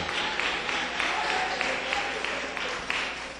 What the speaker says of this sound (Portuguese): Dá uma salva de palmas para Ele com mais alegria no coração